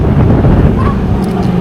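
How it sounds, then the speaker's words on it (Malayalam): Cold wind rushes past during a night ride through central London near Piccadilly Circus, a loud steady roar buffeting the microphone throughout. "നല്ല കാറ്റ്, തണുത്ത കാറ്റ്"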